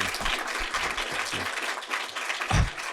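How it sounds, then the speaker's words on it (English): Audience applause after a talk on generative pre-trained transformers, a steady wash of clapping with a few low thumps, no voices over it. "let's give him a big round of applause"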